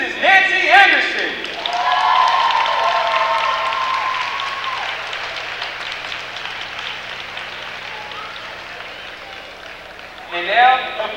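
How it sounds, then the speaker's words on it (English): An audience applauds at a Fayetteville State University basketball event, a steady wash of clapping and crowd noise that slowly thins, with voices speaking at the start and again near the end. "let's give a round of applause to the University First Lady, Mrs. Nancy Anderson."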